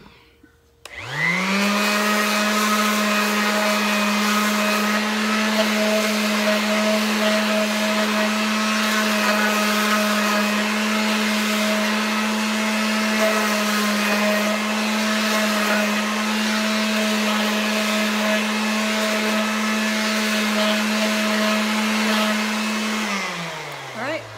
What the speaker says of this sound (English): we're just going to soften those edges with the palm sander really quick